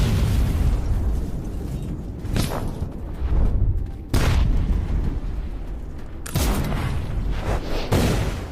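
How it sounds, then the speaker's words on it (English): A mine blast under an armored personnel carrier on a battlefield: several heavy booming bursts recur through the clip, loud and broadband, with rumbling, chaotic noise between them. "An APC tries to force its way through but hits a mine and is taken out."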